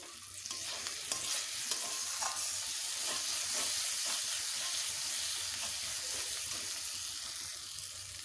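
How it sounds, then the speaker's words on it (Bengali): Spice paste with tomato and green chilies fries in oil, giving a close, steady sizzle and hiss with repeated stirring scrapes throughout and no one talking. "মশলাটা এবার ভেজে নেওয়া হয়ে গেছে মশলা থেকে তেল ছেড়ে দিয়েছে"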